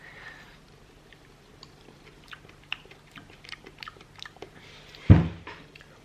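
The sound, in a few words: chewing air-fried grapes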